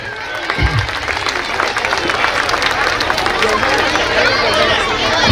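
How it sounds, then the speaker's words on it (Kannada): A school audience of students and parents applauds loudly in a sustained, dense wash of clapping and crowd noise that holds steady throughout, with a low thump near the start. "ಒಂದ್ಸಲ ಎಲ್ಲರೂ ಕೂಡ ಜೋರಾದ ಚಪ್ಪಾಳೆಯನ್ನು ತಟ್ಟುವುದರ ಮೂಲಕ"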